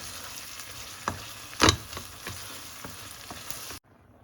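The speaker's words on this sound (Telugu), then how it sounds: "మనం సాల్ట్ పసుపు వేసాం కదా, సో ఆనియన్ కూడా చాలా త్వరగా ఫ్రై అయిపోతుంది" Onions fry in a pan with salt and turmeric, a close crackling sizzle broken by a few sharp stirring knocks and scrapes before cutting to silence at the end.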